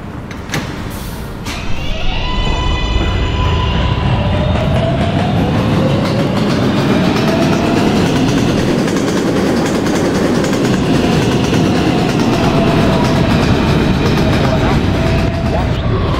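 An R143 subway car on New York's R train runs along the rails with a loud, continuous rumble and rattle, rising whining motor tones layered over the steady roar.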